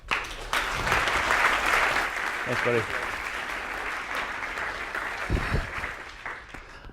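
A conference audience applauds as a speaker comes on stage, broad clapping that swells then thins, with a voice briefly speaking over it.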